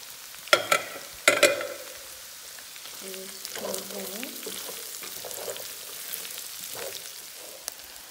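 Onion and garlic fry in a pan for fried rice, giving a soft, steady sizzle close by. A couple of sharp utensil clinks come at the start, and no one speaks over it.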